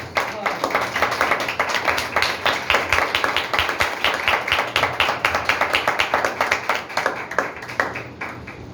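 Church congregation clapping loudly in steady rhythm during a sermon, a dense, continuous run of near, even hand claps lasting throughout, with voices faintly mixed underneath.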